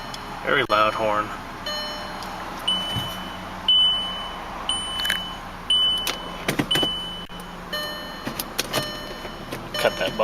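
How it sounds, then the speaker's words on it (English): A warning buzzer in a 2005 Volkswagen Jetta beeps in a steady, repeating pattern of short tones inside the car, mixed with clicks and a brief voice early on. "Cut that buzzer out in just a second."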